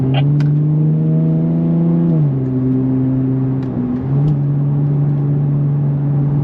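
2024 Nissan Z Nismo sports car engine heard from inside on an uphill drive, a loud steady drone that drops in pitch as it shifts gears, then settles and climbs again, with no talking.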